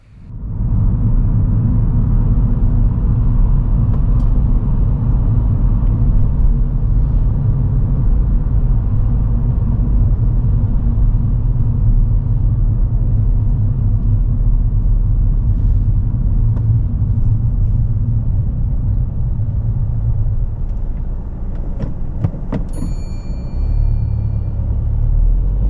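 A car cruises along a dual carriageway toward a roundabout, heard from inside as a loud, steady low road and engine rumble that continues throughout, with a few faint clicks near the end.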